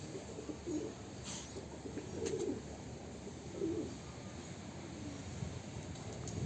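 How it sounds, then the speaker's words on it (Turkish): A male pigeon coos softly three times, spaced apart, low and throaty against a quiet outdoor background. "Erkeğe bakın ne güzel ütüyor."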